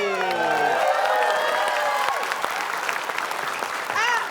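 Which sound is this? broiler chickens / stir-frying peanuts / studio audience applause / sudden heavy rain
studio audience applause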